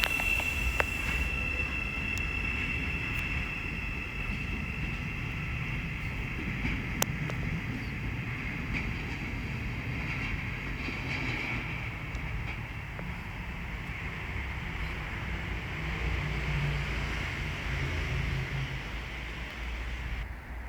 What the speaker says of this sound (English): Now departing is the 1358 Great Northern service from Welwyn Garden City to London King's Cross.